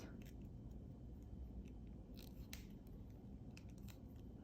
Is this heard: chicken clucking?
no